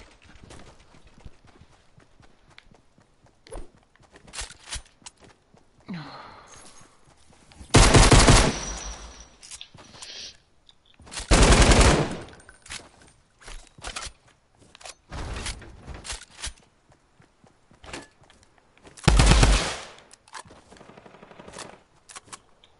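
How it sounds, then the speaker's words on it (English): Submachine gun fire in a video game, heard as several loud, sharp bursts of rapid shots separated by quieter stretches of faint game noise. "I hear firing"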